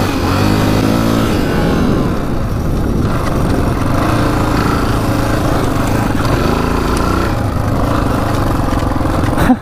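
A rare Honda 500cc motorcycle engine idles up close, a loud, steady low rumble with a slightly uneven, lumpy pulse that runs without a break.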